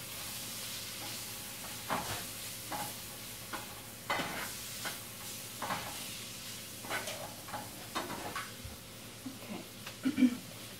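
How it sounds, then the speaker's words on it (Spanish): Sautéed chopped vegetables and chile in a hot pan for Mexican calabacitas, with a steady sizzle and repeated spoon stirs and scrapes at close range, no talking. "Ya tengo mi cacerola aquí prendida. Lo pongo a sazonar."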